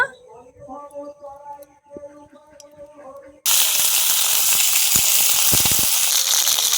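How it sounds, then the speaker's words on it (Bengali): Quiet talking at first, then a loud, steady sizzle of cauliflower frying in hot oil in a wok starts suddenly and continues without letup. "ফুলকপি ভাজার জন্য কড়াইতে তেল দিয়ে দেব"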